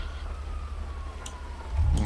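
A police siren wails faintly in the distance, a thin steady tone drifting over low traffic rumble, with a louder thump near the end.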